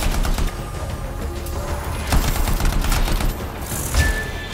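Gunfire in the video game Anthem: dense, rapid shots and booming impacts roll continuously over a loud, rumbling game soundscape, with no talking.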